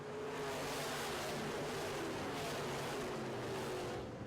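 Midwest Modifieds race cars roaring around a dirt track at a green flag restart, a dense, continuous engine drone with distant rising and falling passes and no clear talk.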